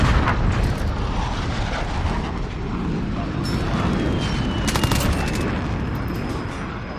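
M4A1 rifle fire in Call of Duty Modern Warfare, dense rapid automatic bursts mixed with explosions and battle noise, loud and continuous throughout.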